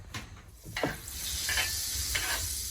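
Butter sizzling in a preheated pan on a cabin stove while deer hash is being made, a steady close frying hiss that swells after a few soft stirring scrapes.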